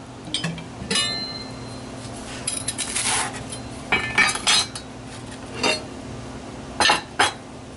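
Cutlery and dishes clink and scrape while SOS is served up, with short bright metallic taps and clatters arriving in irregular bursts close by, separated by quieter pauses.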